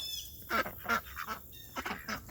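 Several ducks quack in quick, uneven bursts near a garden, fairly faint and a short distance away, with no talking.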